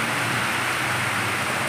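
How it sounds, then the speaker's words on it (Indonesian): Heavy rain pours down on a farm plantation as a dense, constant hiss, loud and close with no break and no voices. "hujan turun dengan lebat sekali guys"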